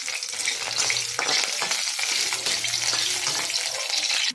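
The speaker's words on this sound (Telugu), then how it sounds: "మూకుడు పెట్టుకుని కొంచెం ఆయిల్ వేసుకున్నాను. ఎండుమిర్చిని వేయించేసుకోవాలి." Dried red chillies fry in hot oil in a kadai, giving a loud, steady sizzle with crackling bursts and stirring scrapes throughout, no voices.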